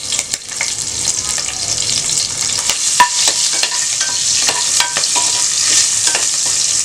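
Cloves, cinnamon, cardamom, bay leaf and slit green chillies crackle in oil already used for frying, a bright, continuous sizzle with frequent sharp pops and spatters, close and with no talk.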